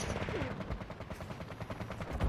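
Close automatic gunfire in a first-person shooter game, a fast, steady rattle of shots repeating evenly for a couple of seconds over low rumbling.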